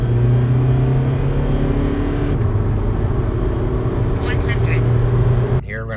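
A tuned common-rail TDI car in sport mode pulls hard at full throttle from a rolling start, a loud cabin drone of diesel engine and road rumble that ends abruptly, with talking over it.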